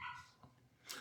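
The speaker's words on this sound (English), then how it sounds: "y'all pardon my dog in the background." A dog barks in the background, with a couple of short, faint yaps and whimpers coming from a distance in an otherwise quiet room.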